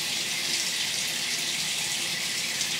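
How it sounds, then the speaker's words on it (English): Water runs from a tap into a sink in a steady, even stream, close by and continuous, with no talking. "Just gonna add water now."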